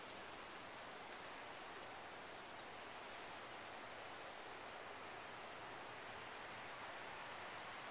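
Steady rain mixed with snow falls throughout, a dense even hiss with occasional faint drop ticks and no voices.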